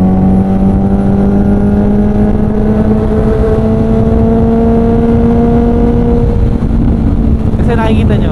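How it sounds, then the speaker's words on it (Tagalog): A Honda CB650R motorcycle ridden on the road, its engine note climbing steadily in pitch as it revs through a gear, loud and close with wind roar, then easing near the end. "ganda rin ang tunog na CB."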